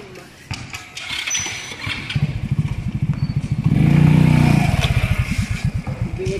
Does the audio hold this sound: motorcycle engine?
yes